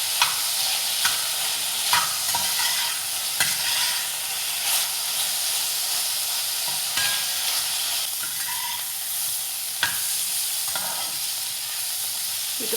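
Green beans being stir-fried Kerala style in a pan with oil hiss and sizzle steadily, with repeated scraping stirs of a spoon at irregular intervals and no talking.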